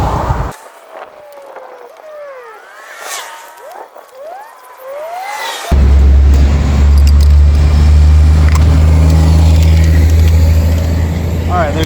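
Road traffic passes by: a quiet stretch with faint chirping suddenly gives way to a loud, steady engine roar and rumble of a nearby vehicle that holds to the end.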